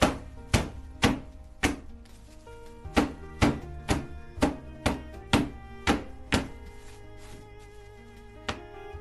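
A plaster-filled mold for a botanical relief is tapped firmly on a surface to settle the plaster, about a dozen hard thunks in a steady rhythm with brief ringing tails, close and clear, no talking.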